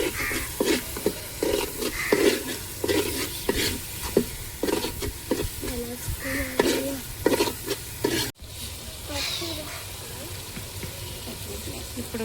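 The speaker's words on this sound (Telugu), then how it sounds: "టర్మరిక్ పౌడర్ పసుపు వేసుకున్నాం పసుపు కలపాలి" Turmeric powder stirred into fish curry frying in a pan, with repeated scraping strokes and a sizzling undertone, close up; a voice is heard over the first part before the sound quietens to a gentle sizzle.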